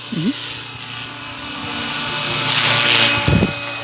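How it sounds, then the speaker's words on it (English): A small JCZK Schweizer 300C scale model helicopter with GPS whines steadily with a high rotor buzz that builds and peaks as it passes close overhead, with brief thumps and voices underneath. "It is a beautiful helicopter."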